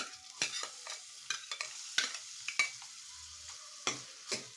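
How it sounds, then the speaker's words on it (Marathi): Finely chopped onion, added after green chili, fries in a pan for paneer kolhapuri, with a faint sizzle broken by intermittent spatula scrapes and stirs; no voices. "तर कांदा गोल्डन ब्राऊन होईपर्यंत परतून घ्यायचा"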